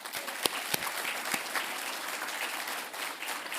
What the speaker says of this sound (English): one more round of applause for all of our other sponsors